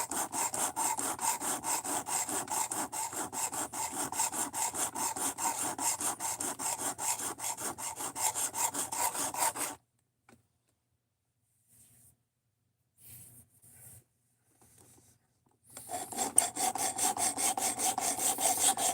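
Steady, close abrasive rubbing as material is hogged off to set a bevel, running continuously, breaking into near silence with a few faint scrapes, then resuming just as loud.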